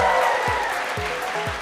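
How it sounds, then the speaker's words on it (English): A round of applause at a university international festival, a crowd clapping steadily at moderate loudness with a tonal hum underneath and periodic low thuds recurring about every half second. "A round of applause for the MCs."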